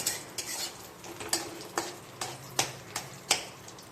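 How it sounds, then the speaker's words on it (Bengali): Bengali lentil dumplings, bori, fry in hot oil under a soft, steady sizzle, punctuated by sharp, regular clinks and taps of a utensil against the pan, about two each second, close and fairly quiet. "এই আমি বড়িগুলোকে গরম তেলে ছেড়ে দিলাম"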